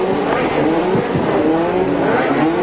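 Race car engine revving loudly and continuously before the start of the 1981 Australian Grand Prix, a dense, sustained roar with shifting pitch as cars line up, close and dominant throughout.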